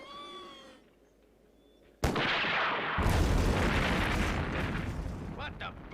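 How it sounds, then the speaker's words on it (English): Large demolition explosions at an old research center: a sudden heavy boom erupts after a quiet moment, followed by a second blast and a long loud rumbling roar of debris that fills the rest of the scene. "It seems to be coming from the old Allington Research Center. They must have started demolition."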